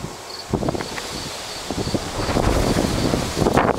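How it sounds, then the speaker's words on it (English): Strong wind outdoors at an off-grid cabin gusts and buffets the microphone with a steady rough roar, with rustling and faint insect buzzing beneath, close and continuous without talking. "The wind's a bit excessive."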